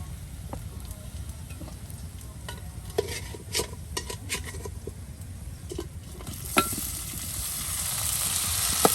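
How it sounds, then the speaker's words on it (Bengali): Onions and chilies sizzle steadily in a pan as spice powder is stirred in, with repeated clicks and scrapes of a utensil against the pot, and the frying hiss swells louder toward the end. "এখন এখানে সেই পেঁয়াজ মরিচ ভেজে নেওয়ার পর গুঁড়া মশলা দেওয়া হবে।"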